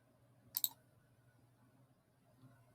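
A single sharp double click of a computer mouse sounds close and crisp against a quiet room.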